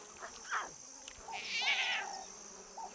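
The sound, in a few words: lion cub vocalizations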